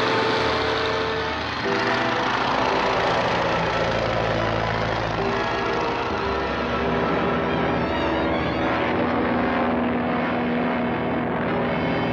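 A propeller airplane from a 1940 Republic serial drones continuously and loudly for the whole stretch, its engine tone shifting slightly as it flies, with no talk over it.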